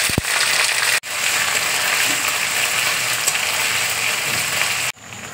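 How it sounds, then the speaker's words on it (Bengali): Ginger garlic paste sizzling as it is added to a pan of hot oil with cardamom and peppercorns, a loud, continuous close frying hiss broken by two brief pauses. "এবার দেখো আদা রসুনের পেস্ট দিয়ে দিচ্ছি।"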